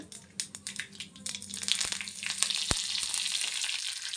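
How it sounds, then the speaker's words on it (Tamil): Mustard seeds splutter in hot oil while tempering chutney, giving a close, crackling sizzle with sharp scattered pops that grows slightly busier over a few seconds. "கொஞ்சமாக வந்து கடுகு சேர்த்துக்கிறேன் கடுகு வந்து நல்லா பொரியணும்"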